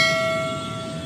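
Passenger train at Yamuna Naini Bridge in Prayagraj, a steady sustained horn tone over a low rumble, fairly loud and fading slightly.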